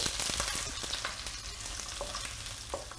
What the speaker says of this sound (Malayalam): എന്നിട്ട് അതിലേക്ക് നമ്മൾ അരിഞ്ഞു വെച്ചിരിക്കുന്ന സവാള ഇട്ട് കൊടുക്കുകയാണ്